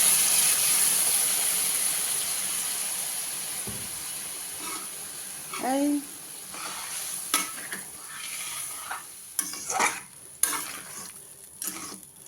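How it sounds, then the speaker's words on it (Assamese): Hot water poured onto frying chicken in a pan for an Assamese chicken curry, a loud steady sizzling hiss that fades, followed by scattered stirring clatters and bubbling, with no voices. "এতিয়া অলপ গৰম পানী দি দিছোঁ।"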